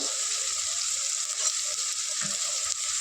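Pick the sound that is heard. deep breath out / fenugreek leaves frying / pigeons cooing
fenugreek leaves frying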